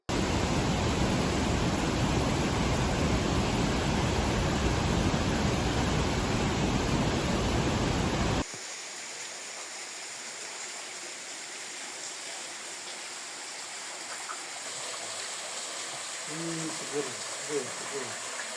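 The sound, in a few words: Kali Takir river stream flowing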